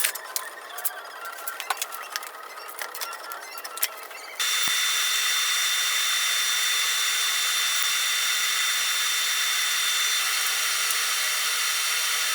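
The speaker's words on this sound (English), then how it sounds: "pull the subframe off and weld that fully" An aluminium cross brace on a VFR motorcycle subframe is welded: a few light clicks and handling noises give way to a steady, loud, hissing buzz that holds for about eight seconds.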